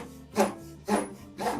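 Hand saw cutting through wood while building a garage garden platform: three rhythmic rasping strokes, close and distinct, with brief pauses between each pass.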